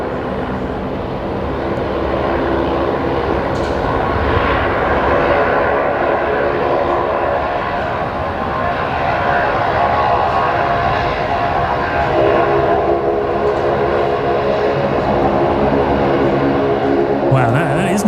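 A Saab aircraft lands on runway 19 right at Brisbane Airport. It makes a loud, continuous engine and propeller roar that stays close and steady throughout, with people talking over it.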